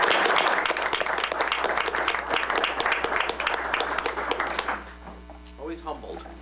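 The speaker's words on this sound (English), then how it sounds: "how about a round of applause for all the volunteers?" Audience applause at a Royal Oak city commission meeting, dense steady clapping that thins and fades over the last seconds as talk resumes.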